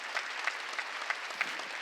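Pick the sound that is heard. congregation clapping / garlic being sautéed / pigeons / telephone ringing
congregation clapping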